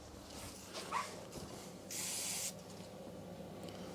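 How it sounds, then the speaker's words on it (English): Brake cleaner sprayed onto a bicycle brake on a carbon Yeti SB5 mountain bike: one short, sharp aerosol hiss lasting about half a second, close and fairly quiet over faint background noise. "We just need to clean that off with a bit of brake cleaner."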